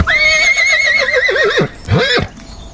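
A toy horse emits a loud, close electronic neigh, a long wavering whinny followed by a short second call, then stops abruptly.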